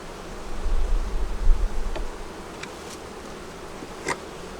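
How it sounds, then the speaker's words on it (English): Honey bees buzz around a hive entrance in cooling weather, a soft, diffuse hum with a low rumble early on and a few individual bees passing close. "the bees are coming home"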